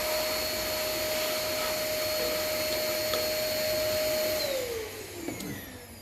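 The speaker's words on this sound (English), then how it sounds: "I have the hoover, the kind of workshop hoover here as well" A workshop vacuum cleaner runs steadily and fairly close with a constant high motor whine, then its pitch sags as the motor winds down near the end.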